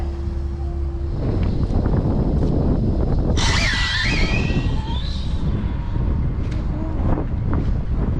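Strong wind roars and buffets against the microphone throughout at an RC no-prep drag race, a constant loud rumble with a brief higher whistling burst partway through.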